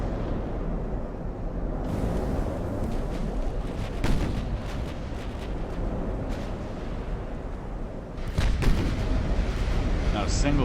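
Warship guns fire repeatedly at an enemy destroyer in Ultimate Admiral: Dreadnoughts, a constant low rumble of booming salvos with sharper reports scattered throughout and a heavier burst near the end.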